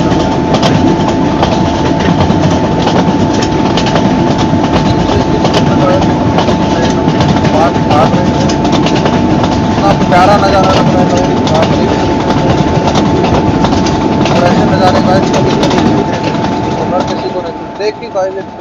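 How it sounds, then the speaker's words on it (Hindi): A double-decker express train on the Pune to Bangalore route in a train simulator game rolls through mountains, a loud, steady rumble with rhythmic clickety-clack and a constant tonal hum running throughout. "देखिए गाइस एक ट्रेन पहाड़ों में से बीच में से जा रही है"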